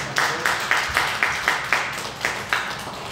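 A church congregation claps together in loose, repeated bursts of applause, fairly close and steady, with no talking.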